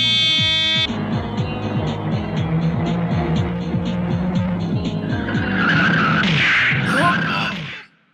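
Tires squeal in a long skid during a Bhojpuri film car scene, a rhythmic screeching pattern under a tonal buzz, building into a louder crashing burst near the end before cutting off.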